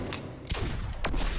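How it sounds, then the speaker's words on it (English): Gunshots from Red Hood in the fighting game Injustice 2, three sharp separate bursts spaced about half a second apart over low rumbling game sound, no talking. "And gunshots somehow propel you in the air."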